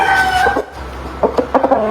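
A chicken clucks and squawks up close in short bursts, a few sharp calls followed by a quick run of clucks.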